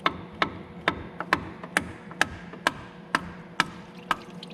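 A small hammer taps in a steady rhythm, about two light metallic knocks per second, close by and alone, during a water pump replacement on a 2011 Ford F-150 with a 3.5L engine.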